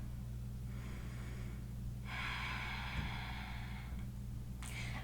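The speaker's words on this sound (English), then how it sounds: "Ujjayi breath." Ujjayi breathing during a yoga class, two slow, close hissing ocean-like breaths with a third starting at the end, over a low steady background hum.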